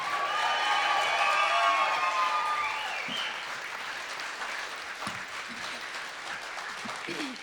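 Concert audience at a live show at The Kate applauding the band, a dense wash of clapping and cheering that peaks early and stays steady, with scattered shouts.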